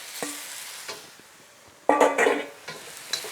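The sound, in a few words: beef sizzling and being stirred in a pan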